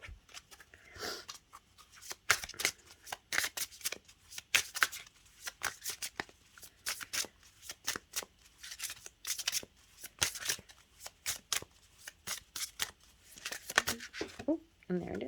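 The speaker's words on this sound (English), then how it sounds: "I'm going to pull one more card, and that's going to be from the Crystal Wisdom Healing Oracle from Judy Hall." Oracle cards from a Crystal Wisdom Healing deck are shuffled by hand in a long run of quick, crisp riffling snaps and flicks, close and steady, with occasional faint movement between bursts.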